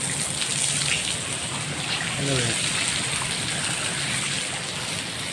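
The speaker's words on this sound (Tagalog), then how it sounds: "Walang tigil ang buhos ng ulan" Heavy rain pours without letup, a thick continuous hiss of water, with a short spoken question breaking in partway through.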